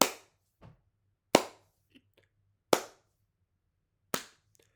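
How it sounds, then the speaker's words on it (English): Four slow, sharp handclaps spaced evenly more than a second apart, each ringing briefly into near silence, with a couple of faint softer taps between them. "slow clap."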